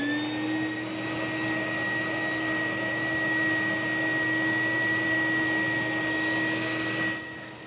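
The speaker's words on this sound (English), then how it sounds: "when you're ready to turn the blower on" A cellulose insulation blower machine runs steadily throughout for attic insulation work, giving a loud continuous motor whine with a sustained hum, holding even before cutting off near the end.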